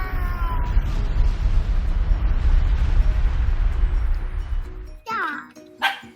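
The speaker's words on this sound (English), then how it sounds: "A volcano." A volcano eruption sound effect: a dense, loud rumbling roar holds for about five seconds, then cuts off and gives way to brief voiced sounds at the end.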